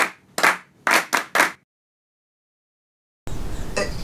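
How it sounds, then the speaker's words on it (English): A classroom of students clap their hands in a few quick, close bursts, loud and near, then a long silence before a noisy rustle returns at the end. "Clap your hands."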